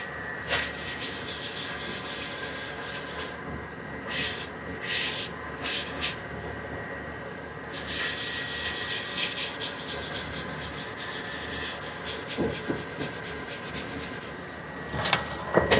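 Yorkshire Grit abrasive paste is rubbed by hand onto a sealed sissoo and acacia wooden bowl on a lathe, making a close, continuous scratchy rubbing. The scraping swells and dips in short strokes with brief pauses.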